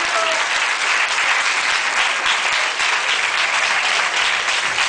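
Loud, dense applause from a live audience fills the room steadily for about five seconds, a continuous close clapping for a comedy performer's father who stands up.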